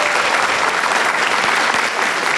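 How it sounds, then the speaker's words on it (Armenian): A studio audience at a club-style show breaks into steady, dense applause, loud and close, with a faint murmur of crowd noise and no talking. "Ծափարեք Սերգեյին"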